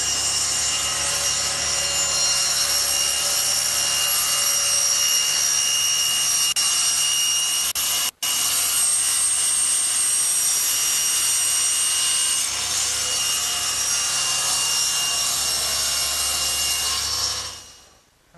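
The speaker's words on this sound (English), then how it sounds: "Suppose there are many ways to cut this slot, but I like to use the table saw" A table saw cuts a slot in a wooden workbench piece as it is slowly plunged over the blade against the fence, a loud steady whine and rasp for about seventeen seconds with one brief break, then winding down.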